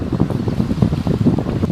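Steady wind buffeting the microphone beside a river during fly fishing for brown trout, a continuous low rumbling roar with gusty swells and no voices.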